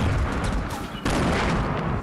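Dense, loud gunfire from a video game shooter, a continuous barrage with a sharp break midway before the volley resumes, filling the whole moment without talk.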